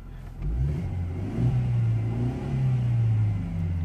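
A Mercedes C180 Kompressor engine with an air flow meter fault revs up and holds a deep, steady roar, swelling and easing slightly, close and loud with no talking.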